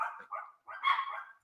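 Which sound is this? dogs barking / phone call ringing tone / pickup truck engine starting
dogs barking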